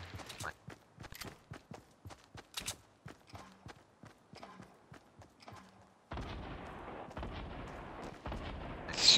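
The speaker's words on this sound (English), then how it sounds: "They're like throwing grenades at nothing." Grenade explosions and gunfire in a Fortnite match, a run of sharp bursts and thuds spread across the stretch, followed by a steady denser rumble near the end.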